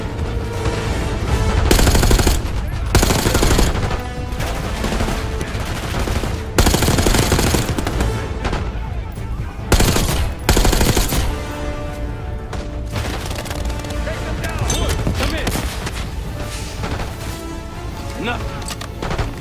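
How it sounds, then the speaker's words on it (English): Heavy covering gunfire rattles through a Call of Duty: Black Ops 6 battle scene, with loud sustained automatic bursts and booming shots broken by brief gaps as voices speak over the din. "Give us some cover fire."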